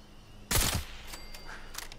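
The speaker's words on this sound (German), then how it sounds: "Waren das gerade zwei Schuss?" A sudden burst of gunfire in Fallout 76, a sharp loud crack with a quick follow-up shot, then fainter scattered clicks.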